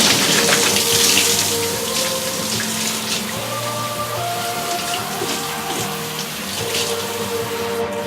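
Running water rinses a Bichon Frise during a home bath, splashing steadily and continuously at close range with a hissing, pattering texture.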